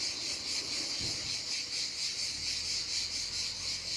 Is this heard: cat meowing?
no